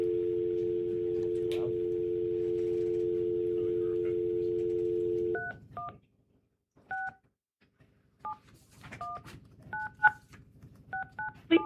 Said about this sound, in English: I'll call in Dominic on the phone here, so that way, if you give me just a second, he'll be able to chime in